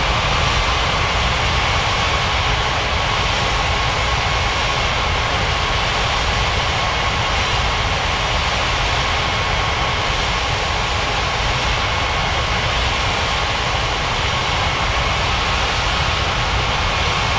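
A China Southern airliner takes off from runway 27 at Ngurah Rai airport in Bali, a loud, steady, continuous jet engine roar that stays constant and dominant throughout without talking.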